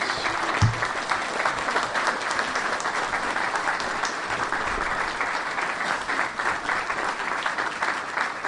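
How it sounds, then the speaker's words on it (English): Sustained audience applause for candidates at a town supervisor debate, a dense, even wash of clapping lasting several seconds without letting up. "right now you can applaud the candidates"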